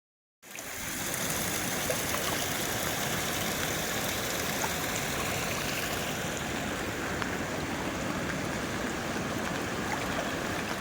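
A flooded Surya river rushes past close by, a loud, steady broadband roar of churning water that starts abruptly and continues unbroken.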